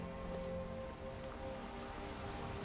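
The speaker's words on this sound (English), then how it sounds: "It's raining here in Skyrim." Steady rain falls in Skyrim, a soft even hiss of drops on surfaces with low tonal hum beneath and no voices.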